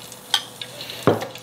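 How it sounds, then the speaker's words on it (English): Beef and garlic fry in a Sunbeam Duraceramic frypan: a short clatter, then a sudden burst of hissing sizzle near the end, close and moderately loud, with no voices. "So I'm just gonna get this bowl of beef and let's chuck it in and have a look."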